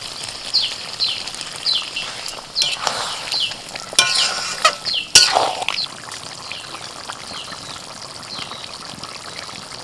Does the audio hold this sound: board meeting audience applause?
no